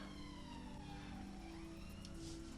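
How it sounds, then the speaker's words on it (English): A fire engine siren wails steadily as it passes in the street, fairly distant and blended with a continuous wash of traffic noise. "Fire engine going past."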